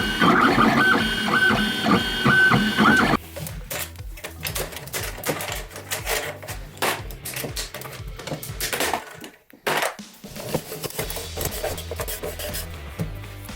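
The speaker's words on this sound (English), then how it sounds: "I hit start and the printer begins its work" A 3D printer prints RC car parts, starting with a loud whirring hum, then settling into rapid mechanical stepping and buzzing motor moves in uneven bursts, close and alone.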